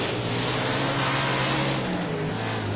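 A race car engine in World of Outlaws 2024 drones steadily at high revs, loud and continuous with a slight pitch shift near the end, no talk over it.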